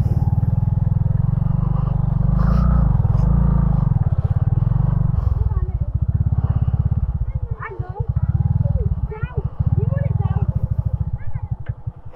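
A motorcycle engine rumbles steadily up close as the bike is pushed up onto a bank on a muddy rural road near a riverside, with clattering and scraping and someone talking over it.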